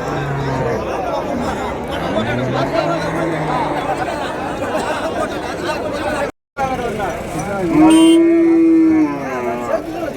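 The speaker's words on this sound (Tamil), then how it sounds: "அந்த பக்கம் இருக்கிறது பசுமாடு" Cattle at a livestock market in Uthangarai moo loudly and nearby, with a long low call rising clearly above a constant babble of crowd chatter and people talking.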